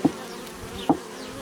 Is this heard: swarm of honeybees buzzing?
yes